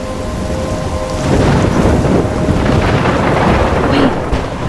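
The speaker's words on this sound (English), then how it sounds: "I'm trapped in a storm?" Thunderstorm in the video game Life Is Strange, heavy rain pouring continuously while a deep rumble of thunder swells and rolls underneath, loud and close with no voices.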